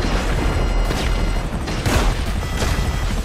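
Rocket fire and explosions in the video game GTA 5, loud booming blasts with rumbling bursts and crashing debris, one big impact after another in a dense, chaotic barrage.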